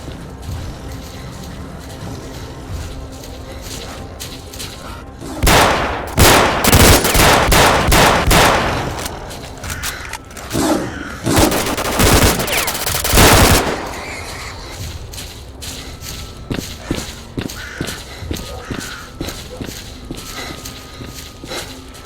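Gunfire in the shooter game STALKER with the Gunslinger mod: bursts of loud rapid automatic shots in two main volleys, then scattered single cracks and mechanical clicks fading out.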